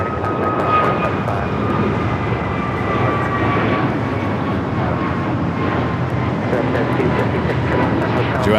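Qantas airliner at LAX, a steady loud jet engine roar that stays constant throughout, with faint radio chatter in the background.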